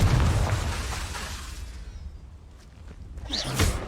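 A Confringo blast spell in the PlayStation game Hogwarts Legacy bursts with a loud, booming explosion that rumbles down into a fading whoosh, then flares again with a sharper crackling pop near the end, with no talking over it.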